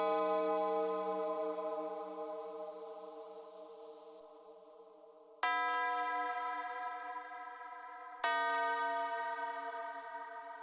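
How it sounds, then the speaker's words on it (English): A church-like bell sample rings out in a dark FL Studio horror melody, playing root notes: a long sustained tone that slowly decays, followed by two further clear strikes, each fading out on its own. "After that, I threw in this church-like bell."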